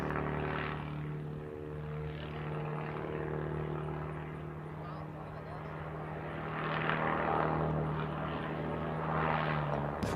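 A propeller aerobatic plane with a Cincinnati propeller hangs in a torque roll above an air show at SUN 'n FUN, engine droning with steady low tones and swelling prop roar, under a public-address announcer.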